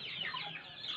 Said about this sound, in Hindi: चूज़े सारे अपनी माँओं के साथ बंद किए हुए मैंने